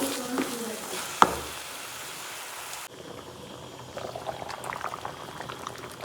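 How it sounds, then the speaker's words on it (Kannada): A pot of river crab masala curry boils steadily, with a continuous dense bubbling and popping close by and one sharp clink near the start, then a slightly quieter, rougher simmer. "ನೋಡಿ, ಇದು ಈ ಥರ ಕುದಿ ಬರ್ತಾ ಇದೆ ಅಂದರೆ ಇದಾಗಿದೆ ಅಂತ"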